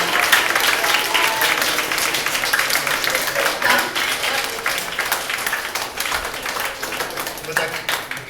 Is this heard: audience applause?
yes